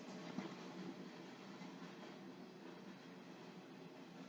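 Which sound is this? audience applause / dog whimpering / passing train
passing train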